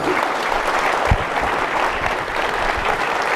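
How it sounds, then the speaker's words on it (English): Audience applause following a speech at an event with U.S. Secretary of State Rex Tillerson on the subject of the U.S. and India, a dense, steady clapping from a large crowd lasting throughout. "Would you please thank him with your applause?"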